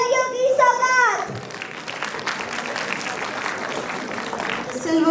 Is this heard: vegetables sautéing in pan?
no